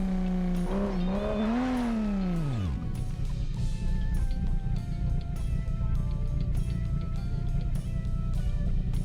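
Mazda Miata driven in BeamNG Drive: a loud engine note rises and wavers while revving, drops sharply, then settles into a steady rumbling drone with faint tire noise throughout.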